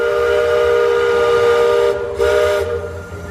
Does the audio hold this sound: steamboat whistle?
yes